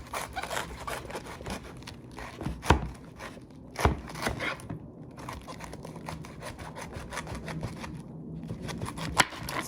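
A knife chops through ingredients on a cutting board while macaroni and cheese is being prepared, giving irregular close, dry taps and scrapes with a few sharper cuts standing out.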